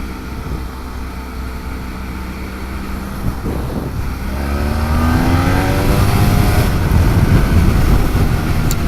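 Steady engine drone of a BMW F800GS motorcycle cruising on a highway, rising slightly in pitch and loudness as it accelerates, with constant road and wind noise.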